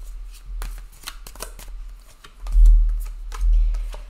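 Tarot cards are shuffled by hand in quick riffling bursts and soft slaps, close and fairly loud, growing heavier toward the end with no talking.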